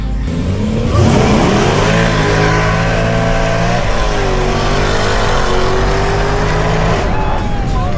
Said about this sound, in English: We're gonna race this BMW we raced the other night